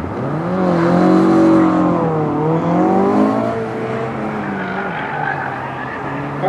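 A Subaru Legacy GT Wagon on an autocross course at an Ottawa Subaru Club event, its engine revving loud and close with rising and falling pitch through the run, steady and unbroken.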